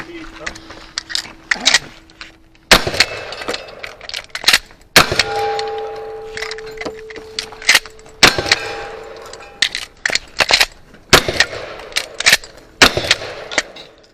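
Gunfire at a cowboy action shooting match: a run of sharp, loud pistol shots and steel-target rings in an irregular rhythm, some close together, with talk and ringing tones between shots.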